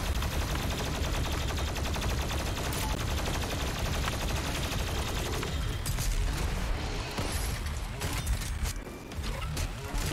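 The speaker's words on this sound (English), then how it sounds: "Plasma gun's good." In Doom Eternal a plasma gun fires continuously, a rapid, buzzing stream of energy shots packed with crunching impacts and mechanical clatter, loud and unbroken for most of the stretch before thinning out near the end.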